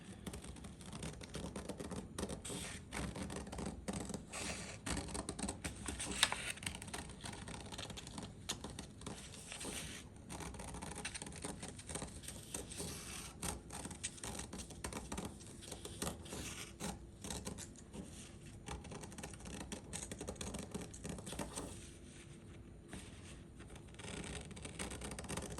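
Scissors snip steadily through a paper pattern and fabric for an 18th-century pocket, a soft continuous rustle of quiet close cuts with no talking.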